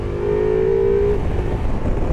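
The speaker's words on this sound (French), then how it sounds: "le moteur, ça ronfle." A loud, deep Ducati Multistrada V4 motorcycle engine rumble idling steadily nearby, with a brief whining tone in the first second that then fades.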